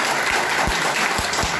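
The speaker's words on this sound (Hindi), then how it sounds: "ताली तो होनी चाहिए।" An audience at a business seminar breaks into a short burst of clapping, dense and steady throughout, fairly loud and close.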